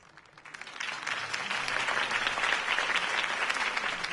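A crowd applauds after a campaign speech in the Batman Telltale video game, clapping that swells quickly from a quiet start into sustained, dense applause.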